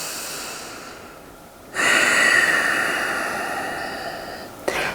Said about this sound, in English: we're going to do that same breath in and the fogging out breath, but with the mouth closed